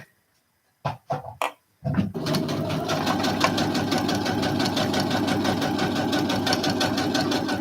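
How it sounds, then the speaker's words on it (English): A sewing machine backstitches a seam at a 3/8 inch allowance: a few short stop-start bursts give way to a steady, close, continuous mechanical whir and rattle that runs without talk. "at a 3/8 seam allowance, I'm going to backstitch to secure it"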